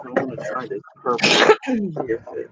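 A single sneeze from a person at a late-night craft session, a sharp burst in the middle of ongoing nearby conversation.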